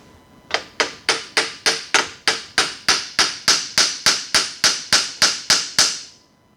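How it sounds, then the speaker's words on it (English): A small hammer strikes rear suspension parts during a 1986 Porsche 944 Turbo restoration, about eighteen sharp, evenly spaced metallic blows in a steady rhythm, close and loud with a short ring after each. "Trusty little hammer."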